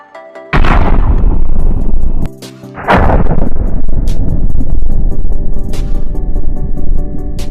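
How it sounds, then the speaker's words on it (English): Two heavy grenade explosions in a video game burst out one after another, each a loud boom with a long rumbling tail and scattered debris crackle, followed by continuing low rumble. "have a look at these two explosions"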